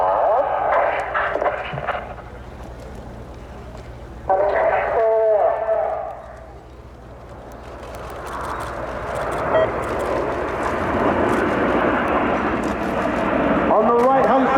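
An RAF Eurofighter Typhoon performs the Typhoon Roll at the RIAT 2025 airshow. A distant jet roar swells and grows steadily louder through the second half, beneath a public-address commentator talking.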